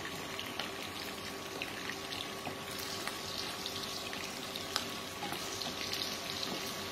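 Onion frying in oil in a home kitchen, a steady soft sizzle and crackle with faint bubbling running throughout, no talking.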